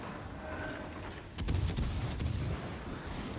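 Ship guns firing in World of Warships Legends, a sudden booming salvo of several rapid shots followed by rolling rumble over a steady ocean-like background, fairly loud and without talk.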